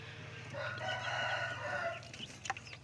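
A chicken clucks and then crows in a drawn-out, hoarse call, close and moderately loud, ending with a few short clucks.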